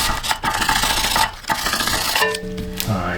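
A wire brush scrubbing rust from a rear brake hub on a Buick Encore, rapid close scratchy strokes in uneven bursts, followed by a brief ringing metallic tone near the end.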